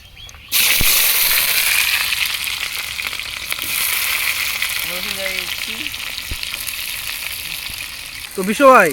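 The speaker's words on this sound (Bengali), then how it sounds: "পেঁয়াজ সব ভালো করে ভেজে নিবা" Onions frying in hot oil with cumin seeds in an outdoor village picnic cooking pot, a steady loud sizzle filling the whole clip after a sudden start, with brief stirring clatter near the end and no talk.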